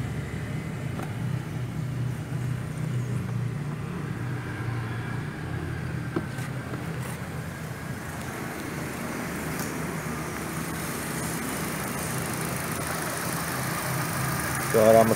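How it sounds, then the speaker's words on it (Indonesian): A 2010 Chevrolet Cruze 1.8L engine fitted with an HHO fuel saver idles with a smooth, steady low hum, and a person talks over it throughout. "Suara mesinnya lebih halus."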